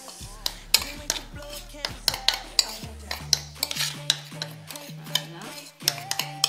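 Dry flour, sugar and cocoa stirred together in a bowl, a utensil clinking and scraping against the sides in quick repeated strokes, close and fairly loud with no talking.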